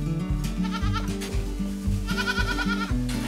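Goats bleating at a goat cheese farm making Crottin de Chavignol, loud, close, overlapping wavering calls one after another with no pause.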